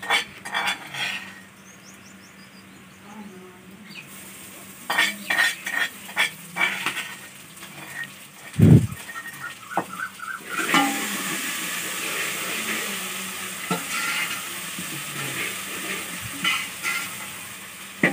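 Ground spices tipped into golden fried onions for biryani, clattering spoon and pot hits followed by a loud burst of sizzling and frying that settles into a steady hiss with intermittent stirring scrapes, close up and without speech.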